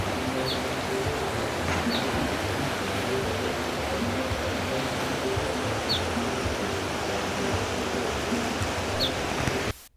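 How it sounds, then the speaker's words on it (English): A small river in Kinshasa, DR Congo, flows with a steady broadband rush of water, constant and fairly close, with a few faint chirps above it before it cuts off abruptly at the end. "This is a small river."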